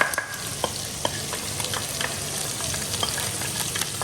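Garlic frying in oil in a pan for paella, with browning sofrito, an even close sizzle with light crackles and occasional stirring clicks.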